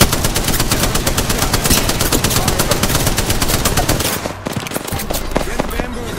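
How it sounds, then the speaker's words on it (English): Loud, rapid automatic gunfire in the battle royale game Apex Legends, with dense bursts of shots for about four seconds, a brief lull, then a few scattered, sharper shots. "Listen up, I'm getting shot at."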